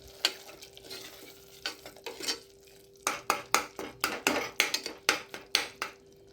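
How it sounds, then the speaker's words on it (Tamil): Tomato and onion gravy cooks down in oil in a cooker for biryani while a spoon scrapes the pot in quick, uneven strokes, sharp rhythmic clatters over a low background sizzle, with no voices. "டொமேட்டோ, ஆனியன் எல்லாம் மிக்ஸ் ஆகி நல்லா அந்த எண்ணெய் பிரிஞ்சு வர அளவுக்கு நான் பாயில் பண்ணிட்டே இருக்கேன்"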